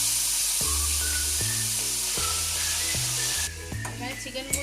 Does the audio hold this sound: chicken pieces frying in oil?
yes